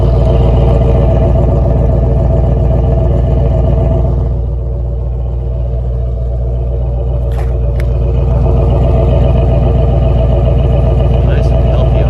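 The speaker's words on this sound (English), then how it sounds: "have a listen to the pipes singing here" A Ford 289 V8 idles steadily through dual exhaust pipes, a loud, even, throbbing rumble with a brief dip in level partway through and a few faint clicks near the end.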